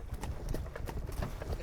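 Horse hooves clop at a walk up a rising bush trail, a steady uneven patter of footfalls close by on the ground, faintly overlaid with ambient rustle.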